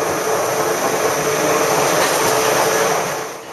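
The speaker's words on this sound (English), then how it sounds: "to get down, you hop aboard the steepest cog railway in the world." Swiss cog railway train descending a steep mountain, a steady close rumble and rattle of the cars with a constant high whine throughout, tapering slightly at the end.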